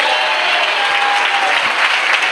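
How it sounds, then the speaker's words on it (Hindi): A church congregation bursts into loud, sustained applause that fills the room evenly from start to finish, dense and steady with no voices rising above it. "ऐसे जाल बिछाने वाले के प्रभु के लिए जोरदार ताली दो।"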